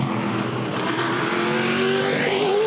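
V8 Supercars race past during the 2010 Yas 400, their engines a loud, continuous roar that rises steadily in pitch as the cars accelerate by at close range.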